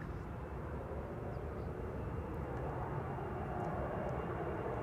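An Embraer jet airliner passes at Amsterdam Schiphol, a steady, distant-sounding broad engine roar holding evenly for several seconds with no talking.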